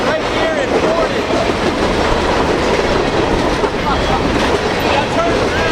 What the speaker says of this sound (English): 3 trains at one time.